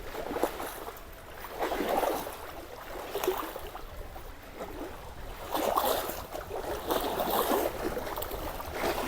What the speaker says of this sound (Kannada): ನೀರಿನ ಅಲೆಗಳ ಶಬ್ದ ಬಹಳ ಕಿವಿಗೆ ಹಿತವನ್ನು ಕೊಡ್ತಾ ಇದೆ